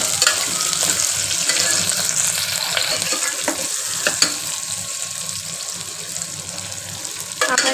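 Curry leaves and chilli are stirred in a hot frying pan for dal khichdi, giving a loud, steady sizzle with scattered spatula scrapes and taps close by; no one speaks.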